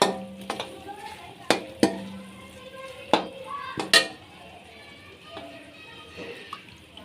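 Tomatoes cook in a pan for matar pulao, a faint steady sizzle broken by sharp clinks and scrapes of a spoon stirring against the metal, several distinct knocks in the first few seconds, then quieter simmering.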